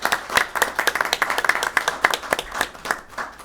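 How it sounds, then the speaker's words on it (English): A round of clapping for the Shrewsbury robotics staff at a school committee meeting, a small group's fairly close, uneven handclaps sounding steadily throughout before tapering slightly. "a round of applause for our Shrewsbury robotics staff"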